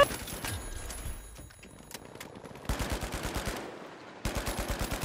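Bursts of automatic gunfire in the video game The Finals: sharp rapid shots at first, then two long, evenly spaced machine-gun volleys, loud and close, with a short quiet gap between them.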